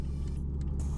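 Steady low engine rumble from a car with an automatic 2V engine while driving, a constant close drone with a brief airy hiss near the end and no talking.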